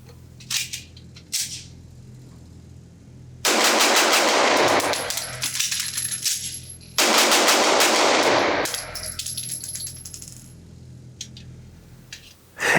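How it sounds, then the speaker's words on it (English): An Atlas Gunworks Athena 2011-style pistol fires in two rapid bursts of closely spaced shots at a range, loud and sharp, with ringing echoes, separated by a pause and preceded by a few small metallic handling clicks. "I'm going to try it again and see if I can avoid that issue and see how fast I can shoot it."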